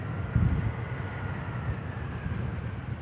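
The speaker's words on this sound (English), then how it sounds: "EasyJet just touching down Airbus A320." An easyJet Airbus A320 touching down at Manchester Airport, heard as a distant low roar of engines that swells briefly early on, then holds as a steady rumble.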